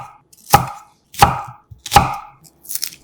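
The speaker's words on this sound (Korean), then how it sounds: "양파 반개는 속을 분리해서 어슷하게 엄지천마디 크기로 잘라주고" A knife chopping half an onion into thumb-sized diagonal pieces on a cutting board: three sharp, evenly spaced chops followed by a softer fourth, close and clear with no talking.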